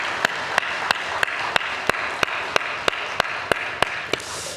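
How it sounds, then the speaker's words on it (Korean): Church congregation at a Sunday worship service clapping in unison, about fourteen sharp, evenly spaced claps in a steady rhythm, loud and close over a low room hum. "우리 모두를 위하여 우리 하나님께 영광의 박수 올려드리십시다"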